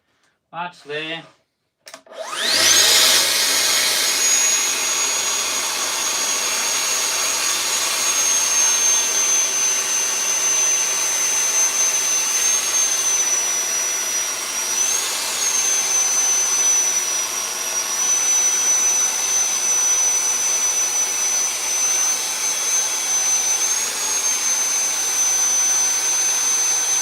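A power saw spins up after brief talk and cuts through a maple board with a steady, loud, high whine that holds for a long stretch, with slight wavering as the blade works.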